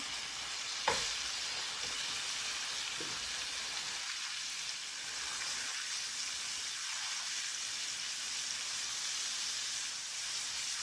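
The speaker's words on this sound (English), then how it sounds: "I've been frying the steak so far for a total of about 6 minutes" Steak sizzles in a skillet with a bright, steady frying hiss throughout, broken early by a single sharp clatter and a few faint scraping stirs, with no voices.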